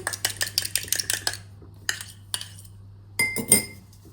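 A fork or spoon clinks rapidly against a bowl while an egg is stirred into scone dough with raisins, a quick run of bright taps followed by a few scattered clinks after pauses.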